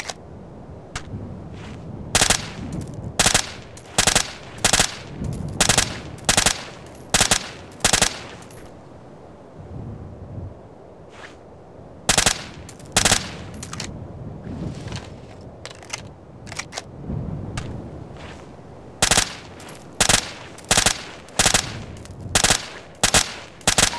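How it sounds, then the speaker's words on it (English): Machine gun suppressive fire in a combat video game: loud, sharp single shots and short bursts in uneven groups, with pauses filled by low background rumble. "Suppressive fire!"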